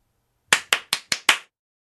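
Five sharp, evenly spaced hand claps during a classroom politeness game, close and crisp against an otherwise quiet room.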